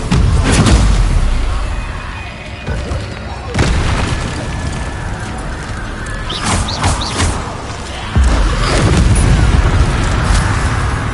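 Repeated booming Confringo spell blasts from the Hogwarts Legacy video game, several loud explosions at irregular intervals mixed into dense spell-casting action and a voice calling out.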